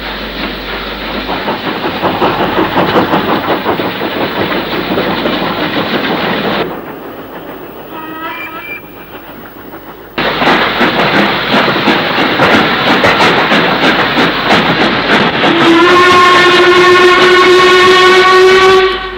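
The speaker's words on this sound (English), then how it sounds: "A 6-coach train approaches Nanak under the road bridge serving the village." A six-coach train rolls toward a village station under a road bridge, a loud, close rumble and rhythmic wheel clatter with a brief lull in the middle, then a steady whistle-like tone rising near the end.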